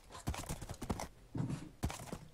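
A horse gallops in a video game minigame, a quick series of close, sharp hoof clip-clops in uneven bursts across a couple of seconds, with no talking.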